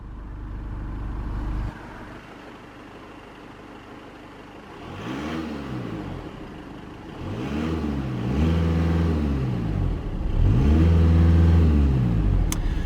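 A 2019 Volkswagen Passat Estate 2.0 TDI GT diesel turns over and settles into an idle, then gives several rising and falling revs that get louder toward the end, recorded close with no speech.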